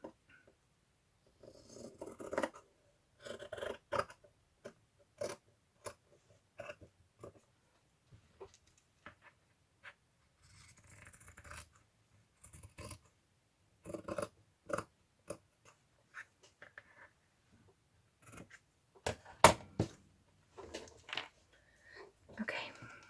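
Scissors snip through material for a handmade fairy journal cover, cutting at an angle in short, scattered bursts of crisp clipping close by, with quiet breathy murmuring between the cuts.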